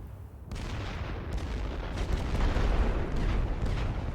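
Heavy artillery fire in a World War I strategy game on the Western Front, shelling a mortar position near Verdun: a dense, continuous rumble of booms that swells louder toward the end, with no voices over it.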